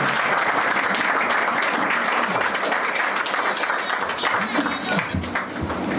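Loud, dense applause from an audience at a farewell ceremony held by a defence academy for students selected into the Indian Army, sustained and even across the whole stretch.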